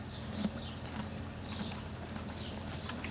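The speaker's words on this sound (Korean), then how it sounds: "농장에서 일하는 뮬들이죠" Soft, steady clip-clop of mule hooves plodding along outdoors on an Amish farm, with faint birdsong chirping in the background; no one speaks.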